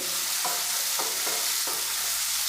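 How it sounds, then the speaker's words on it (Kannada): Chicken curry ingredients frying in a pan, a constant bright sizzle with several distinct stirring scrapes spaced through it, close and fairly loud. "ಅರ್ಧ ಫ್ರೈ ಆದರೆ ಸಾಕು"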